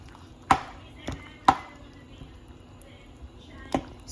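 A spoon knocks against a cooking pot of githeri in a few sharp, separate clacks with quiet pauses between them, heard close up with no talking.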